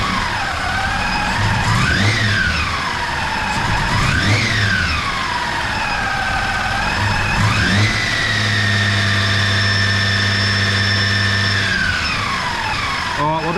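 A Toyota Land Cruiser 80 Series idles close by at operating temperature with a stutter just off idle, blamed on a faulty mass airflow sensor. Its steady idle is broken by several short rev blips that rise and fall.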